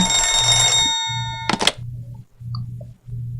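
A telephone in the video game Shin Hayarigami 2 rings once with a bright electronic bell, about a second long, over a low ambient hum, followed by a short clatter as the receiver is lifted.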